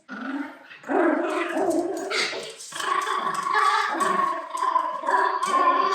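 Dogs growl and bark at close range in a continuous, rough stream of grumbles and yips.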